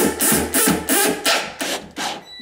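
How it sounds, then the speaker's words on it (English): Drywall screw with a number 2 Phillips tip, lubricated with soap, being driven into a wooden kitchen cabinet and filler. A cordless driver whirs in five or six rough, grinding bursts with short pauses between, loud and close. "Run your screw with the soap on it"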